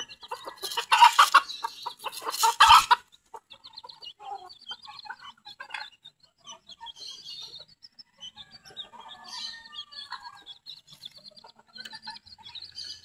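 Backyard chickens cluck and chirp in short bursts, with a louder flurry of bird calls at the start and softer, scattered clucks continuing after.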